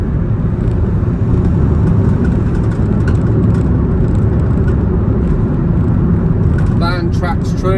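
A Nissan NV200 van driving on an uneven British road, with steady road and engine rumble throughout and a voice talking over it.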